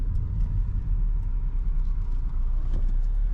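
A car engine rumbles steadily at close range during parking near a beach, low and constant, with no talk.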